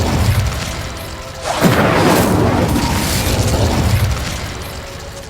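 An Incendio fire spell is cast in Hogwarts Legacy, a sudden whooshing burst that swells into a loud, sustained roar of flame before slowly fading under ambient game noise.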